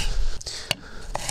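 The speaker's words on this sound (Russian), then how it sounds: "Начнем нарезку. Берем болгарский перец" A knife cuts bell pepper on a board outdoors, giving two or three crisp, quick cuts spaced apart against a low background hiss.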